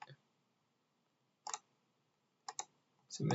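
A mouse click on a submit button while running a coded vaccination-reminder project, heard as a few sharp, isolated clicks spaced by quiet gaps, fairly faint and close, ending with a louder low thump.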